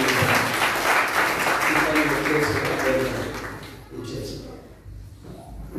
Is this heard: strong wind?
no